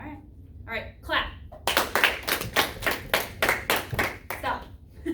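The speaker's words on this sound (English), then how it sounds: "All right, clap." A class of children clapping hands together, a burst of loud, roughly rhythmic group claps close by after a short spoken cue, with voices heard at the start.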